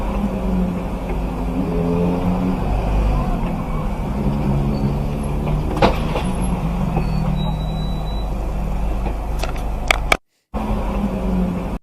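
Car and motorbike traffic on a road, a steady engine drone with passing vehicle noise throughout, with a brief dropout near the end and some talk mixed in.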